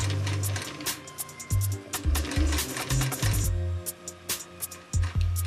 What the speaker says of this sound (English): And again at the end, I'm going to backstitch. And stitch over it again.